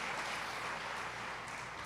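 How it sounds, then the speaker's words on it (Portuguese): A church congregation applauds during a service, a steady, dense wash of clapping that holds at an even level throughout without a break. "Você pode aplaudir ele se você entende isso."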